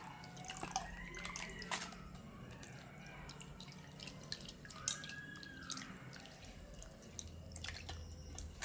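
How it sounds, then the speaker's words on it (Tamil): Water drains and drips from a pot of washed sesame seeds, a faint, quiet trickle with scattered small drips and splashes in an indoor kitchen setting. "எனக்கு இப்போ இதில் இருந்து தண்ணி வடிஞ்சு வந்துட்டுது."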